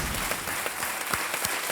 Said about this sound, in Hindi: तालियों के साथ हम उनका स्वागत करते हैं